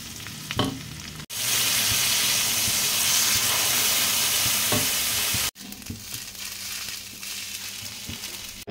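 Garlic fried rice (sinangag) with leftover rice, mixed vegetables, garlic and egg sizzling loudly in a hot pan, a strong continuous hiss that cuts off sharply, then resumes with lighter stirring sounds, close up.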